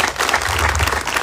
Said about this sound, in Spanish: Un aplauso para los delegados.